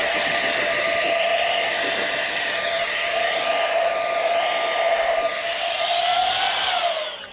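Compressed air duster blowing dust out of a laptop during a repair, a loud continuous hiss held steady for about seven seconds with faint whistling tones, tapering off at the end.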